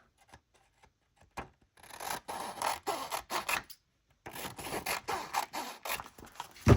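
Scissors cut along the edge of a printed recipe sheet, with a few soft taps and then two sustained rasping, crinkly passes of paper being sliced close by, separated by a short silence.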